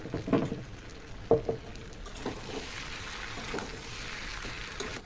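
Mutton and potatoes fry together in a pan with a little salt. A soft, continuous sizzle is broken by a few stirring knocks near the start, and no one talks.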